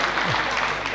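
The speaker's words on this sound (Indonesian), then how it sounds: "Tepuk tangan untuk Pak Haryono." Applause rises from an Indonesian community-meeting audience, a dense, steady clatter of many hands lasting about a second and heard fairly close.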